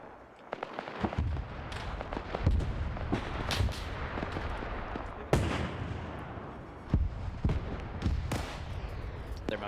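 Dense gunfire in a video game battle with German anti-tank gun defenses: overlapping sharp shots and heavy artillery booms, several loud cracks standing out over a continuous rumbling barrage.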